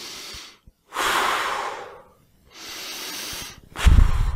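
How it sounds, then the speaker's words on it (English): Two deep breaths taken as a stress-relief exercise, each a long, close airy inhale-exhale hiss separated by brief silence, followed by a heavier rushing exhale at the end. "Take 2 deep breaths."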